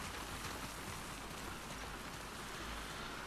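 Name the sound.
rain falling, from the video game The Last of Us Part 2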